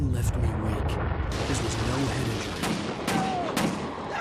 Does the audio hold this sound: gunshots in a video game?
yes